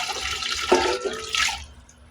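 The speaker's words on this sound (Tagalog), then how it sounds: "tapos maglalagay ko dito ng tubig" Water splashes and pours briefly into a cooking pot of chicken, a short gushing sound at close range.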